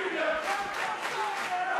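A wrestling event crowd roars and cheers in a dense, continuous wall of voices, loud and unbroken throughout.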